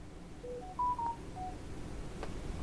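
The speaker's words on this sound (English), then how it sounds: "Sorry about my phone in the background." A phone's touch-tone keypad beeps faintly in the background of a quiet room, a short run of four or five brief dialing tones at uneven intervals.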